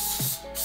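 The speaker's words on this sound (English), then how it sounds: "I'm just going to do a quick spray." Spray paint hissing from a can onto a homemade Halloween gate decoration, a loud, close burst with a short dip in the middle before the spray picks up again.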